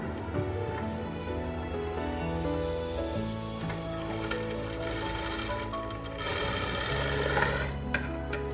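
Sewing machine stitching a strip onto a blouse back neck with a hook strip: a close, continuous mechanical whirr of the needle running at shifting speeds, with brief changes in pace and a few clicks.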